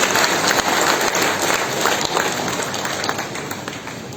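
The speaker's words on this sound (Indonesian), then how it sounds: "Boleh kita berikan tepuk tangan Bapak Ibu semua?" An audience at a KORMI South Sumatra inauguration ceremony claps in a dense, loud wash of applause that gradually tapers off, with no voices over it.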